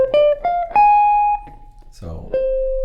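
An electric guitar plays the second phrase of a jazz tune: a few clean picked notes climb and sustain, one held tone slides, then a brief scrape and a final ringing note, all played alone and up close.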